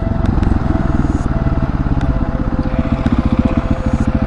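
A 701 motorcycle engine revs hard during a wheelie attempt, a loud, close, rapid thumping drone with pulsing throttle swells and a few sharp clicks riding over it.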